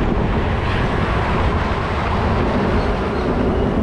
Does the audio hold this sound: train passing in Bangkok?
yes